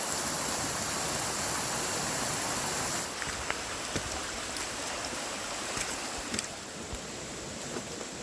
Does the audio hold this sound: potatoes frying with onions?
no